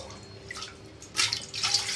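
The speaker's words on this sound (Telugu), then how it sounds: "ఒక గ్లాస్కి 3 గ్లాసులు అంటే 3 గ్లాసులు 9 గ్లాసులు వాటర్ ఇందులో వేసుకుంటున్నాను." Water poured from a glass into a vessel for rice flour batter, a soft trickle swelling into a fuller splashing pour toward the end, close and moderately quiet.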